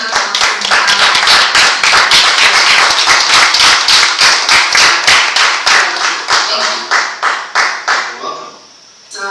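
In-person applause after a talk at a games industry event, dense clapping from an audience that thins into scattered individual claps before fading out near the end.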